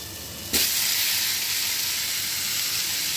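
Chicken is dropped into a pan of browned onions in oil and bursts into a loud, steady sizzle that keeps going evenly after the sudden start.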